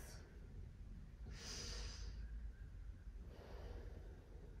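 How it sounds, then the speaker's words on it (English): Slow breaths during a yogalates session, two soft airy exhalations through the nose or mouth about two seconds apart, close and fairly quiet over a low room rumble. "Couple more breaths."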